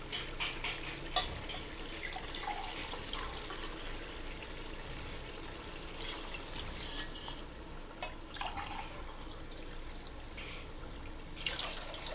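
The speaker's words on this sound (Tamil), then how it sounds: "இப்போ இதில் 3 கப் தண்ணி ஊற்றிக்கலாம்." Water is poured into a pot of rice for mutton biryani, a steady splashing and running stream lasting throughout with faint clinks of utensils and no talk.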